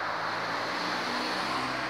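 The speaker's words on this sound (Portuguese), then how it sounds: "Tem carro passando." A car drives past on a road beside a former dump site that has been turned into green space, heard as a steady broadband whoosh of tyres and engine, moderately loud and continuous for the whole moment, with no talking.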